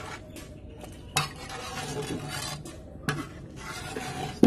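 A ladle stirring chicken biryani masala with rice in a large pot, a soft continuous scraping and shuffling broken by two sharp metallic knocks against the rim, close by with no talking.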